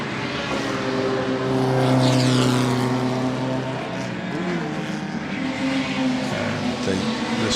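Lister racing car sweeping past at speed at the Goodwood Revival circuit, a loud engine roar that swells to a peak and then fades with a falling pitch as it moves away.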